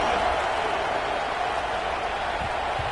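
A broad stadium crowd roars and cheers steadily at a kickoff in the college football video game CFB26, an even wash of noise with faint commentary underneath.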